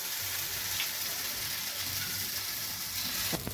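Moong dal fritter batter frying in hot oil in a pan, a steady close sizzle and crackle running throughout, with a brief sharper burst of spitting near the end.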